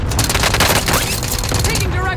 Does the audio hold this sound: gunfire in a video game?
yes